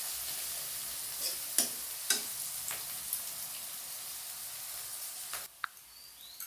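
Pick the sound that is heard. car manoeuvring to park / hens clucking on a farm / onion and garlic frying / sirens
onion and garlic frying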